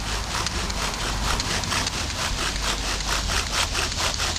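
A bow drill spindle grinds against wood in a steady, rapid back-and-forth rasp, continuous and loud up close, while fire-making smoke builds.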